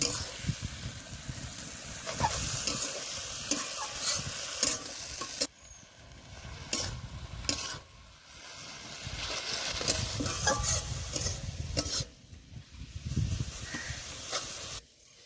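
Salted pumpkin leaves frying in their own released water for a pumpkin-leaf bharta with prawns, with steady sizzling and repeated spatula scrapes and stirs in the pan, under occasional talk.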